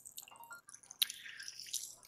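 In the VR game Job Simulator, a faucet runs with soft dripping and splashing, faint and uneven, with a brighter splash near the middle.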